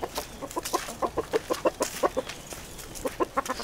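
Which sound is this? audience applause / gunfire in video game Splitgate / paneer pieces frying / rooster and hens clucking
rooster and hens clucking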